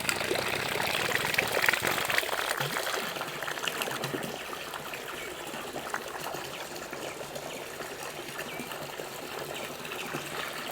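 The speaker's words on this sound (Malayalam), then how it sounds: "ഇതിലെ സമർസൽ പമ്പിൽ നിന്നും വരുന്ന വെള്ളം ഫിൽട്ടർ ചെയ്തിട്ടാണ് ഇതിലേക്ക് ചാടുന്നത്" Filtered water from a submersible pump spills into a fish tank, making a steady close splashing rush that stays even from start to finish.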